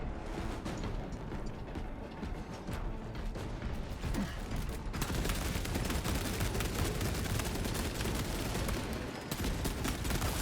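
A heavy bolter in a video game fires without stopping, a dense, loud stream of gunfire with explosive impacts that grows even heavier midway, with no voices over it.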